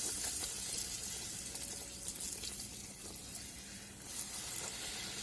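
Wheat-flour puri fry in a small amount of hot oil, giving a steady close bubbling sizzle that swells slightly toward the end, with no talking.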